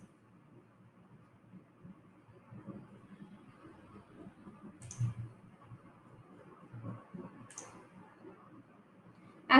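A computer mouse clicks faintly a couple of times, with sharp isolated clicks spaced a few seconds apart over a quiet background murmur.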